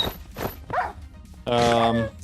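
A dog in a modded Minecraft game gives short yelps and whimpers, followed by a louder burst of layered game sound effects.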